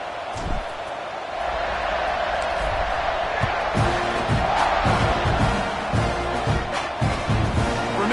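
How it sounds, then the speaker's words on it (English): A college football stadium crowd at an SMU game roars and buzzes after a score, a dense sustained wall of cheering with occasional whoops and thuds throughout. "this crowd is buzzing after that last score"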